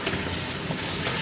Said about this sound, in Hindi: चिकन भून रहे हैं अच्छे से।